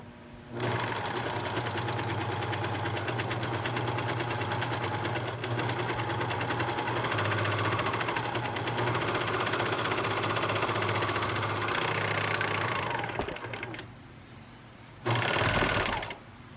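A Janome air threading serger runs at speed through three layers of denim, a loud steady mechanical whir lasting over ten seconds, then a pause and a brief final burst.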